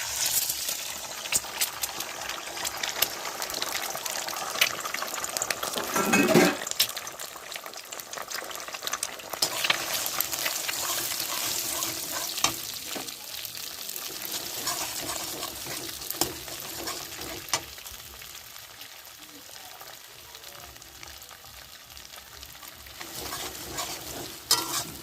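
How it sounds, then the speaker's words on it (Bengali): Eggs frying in hot oil in a wok, a steady broadband sizzle with scraping stirs and utensil clinks throughout, a brief louder clatter near the middle. "তো ডিমগুলো এবার কড়াইতে ঢেলে দেবো।"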